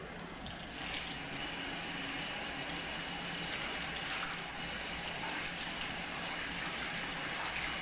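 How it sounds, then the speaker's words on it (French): Lukewarm tap water running steadily into a sink as a makeup wipe is rinsed, a continuous close gushing with a brief change in the flow near the start. "je vais rincer à l'eau tiède"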